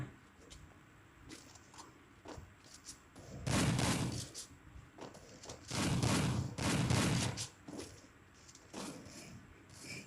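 AK rifle gunfire in the video game Garena Free Fire, several loud bursts of automatic fire standing out against a quieter backdrop of faint clicks and game noise.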